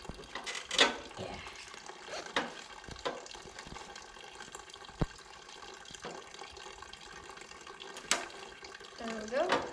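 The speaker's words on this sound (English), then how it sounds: "I'm draining out the fuel right now, so I can plug it into this carburetor." Fuel drains from a mini bike's carburetor in a thin, steady trickle of liquid that runs quietly throughout, with a few clanks of handling and a voice near the end.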